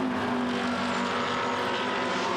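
GT race cars, Ferraris including a 458 Italia and a Lamborghini, race past on a circuit at qualifying pace, a steady loud engine drone holding throughout.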